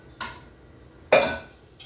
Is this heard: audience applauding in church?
no